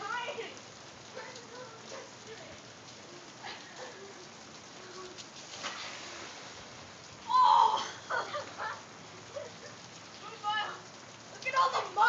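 Steady rain patters down outdoors during a muddy slip and slide, a soft continuous hiss broken by scattered louder splashes, with voices talking and calling out over it.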